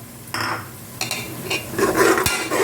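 Mutton kurma with ground tomato paste being stirred and sautéed in a pan, a few sharp scrapes and knocks of a spoon against the vessel over a soft, intermittent sizzle, close and fairly loud.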